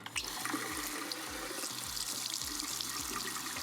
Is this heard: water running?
yes